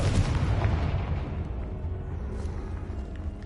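Confringo spell blast in Hogwarts Legacy: a heavy, rumbling explosive boom from the start that sustains as a dense, low roar fading gradually across the clip, with no talk over it.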